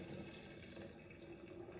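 Hot water is poured into a kombucha brewing container to dissolve sugar, a soft continuous rushing, splashing stream heard close but quiet, steady for under two seconds with no talking.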